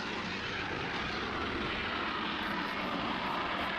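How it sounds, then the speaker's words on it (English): An A-10 jet in the combat game Arma 3 drones overhead as a steady, broad roar of engine noise, fairly distant and unbroken, with no voices. "It's an A10, that sounds of it."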